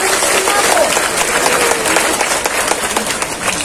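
A women's audience at a Quran recitation gathering at an Islamic boarding school claps, with loud, dense hand clapping running throughout while voices call out over it.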